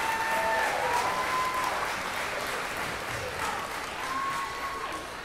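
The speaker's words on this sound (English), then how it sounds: "could we just give a round of applause to our amazing pianist this evening, Mr. Dave Baranowski?" Audience applause at a school spring concert, honoring the pianist: steady, dense clapping from a sizable crowd that holds at an even level throughout, with a faint tone or whistle drifting over it.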